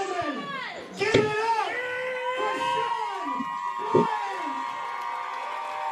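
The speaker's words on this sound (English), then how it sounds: "And just listen to that crowd." A fight event crowd cheers a debut fighter with loud overlapping shouts, whoops and rising yells, a few sharp bursts standing out over a continuous roar of voices.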